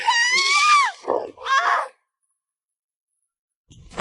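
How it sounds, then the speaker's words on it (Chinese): A high-pitched scream from an animated zombie-apocalypse story: two loud, wailing vocal bursts fill the first two seconds, then near silence until faint noise returns at the very end. "你有没有听到尖叫的声音？"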